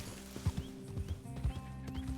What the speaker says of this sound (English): I think that's a horse. That's too big to be a deer.